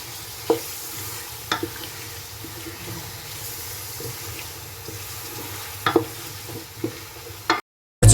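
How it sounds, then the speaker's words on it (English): Onion and vegetables for a veggie pasta stirred together in a pan, a steady low sizzle running throughout with a few sharp clicks and scrapes of the utensil, close up, with no talking. "Then I'm going to stir them all together."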